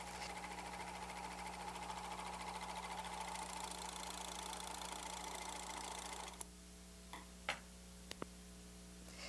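A Riccar RL624 or RL613 serger overlock machine stitches and trims fabric with its knives, a fast, even mechanical chatter over a low motor hum that stops abruptly, followed by a few light clicks and taps.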